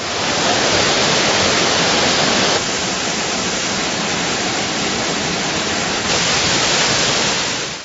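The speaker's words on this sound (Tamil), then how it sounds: "இப்ப அருவியில தண்ணி ரொம்ப நல்லா இருக்கு" Courtallam waterfall thunders with heavy, steady falling water, a dense continuous roar filling the whole span close by, with no voices over it.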